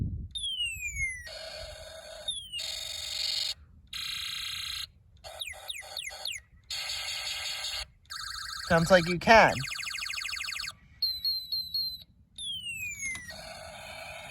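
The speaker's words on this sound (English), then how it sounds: "when I put the black jumper wire in the cup, you hear sounds playing" A Snap Circuits sound module cycles through electronic alarm sounds, loud sweeping sirens, rapid pulsed beeps and warbling tones in successive bursts, with a brief spoken remark partway through.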